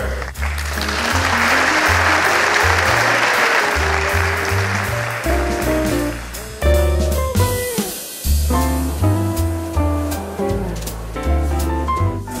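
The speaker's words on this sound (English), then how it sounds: "Have an applause for our" Audience applause at a Portico gathering, a broad wash of clapping running under strong tonal music throughout, the music carrying on after the clapping thins.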